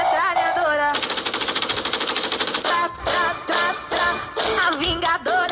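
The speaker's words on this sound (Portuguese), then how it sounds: "Pega a metralhadora." Machine guns fire in rapid, dense bursts that carry loud and continuous through most of the stretch, mixed with busy tonal sound and a voice.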